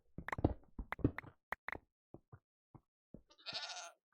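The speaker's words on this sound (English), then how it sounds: "It's you again, the quantum goat." A quantum goat from modded Minecraft (Stoneblock 4) bleats once near the end, a buzzy, wavering call after a run of short percussive clicks and thumps from game sounds.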